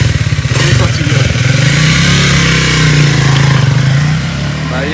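A new superbike engine idles loud and close in neutral, a steady throbbing rumble with a slight dip near the end.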